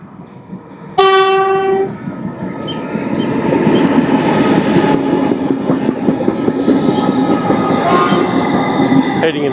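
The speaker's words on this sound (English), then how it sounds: "here comes another train" A passenger train passes close by near Altona station, opening with a sharp horn blast before the rolling wheel and carriage roar swells and holds steady, loud and near.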